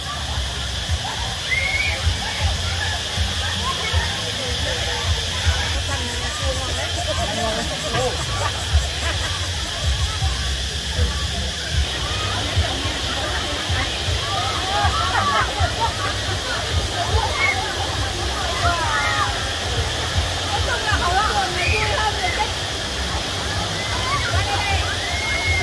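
Steady rush of a forest stream, Tà Má, flowing and sloshing over rocks as a constant wash, with a crowd of visitors chattering and talking throughout.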